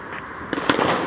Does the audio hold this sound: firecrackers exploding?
yes